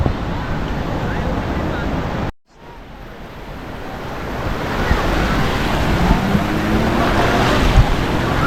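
Sea waves washing onto a beach on Boracay, a continuous rushing surf that builds in loudness, with wind buffeting the microphone and a brief dropout early on.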